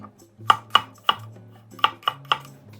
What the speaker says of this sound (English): Slice the garlic thinly.